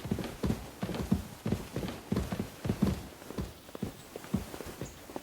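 Horse hooves clip-clop at a steady walking rhythm in the video game Kingdom Come: Deliverance II, a close, continuous series of hard, hollow knocks with no one talking.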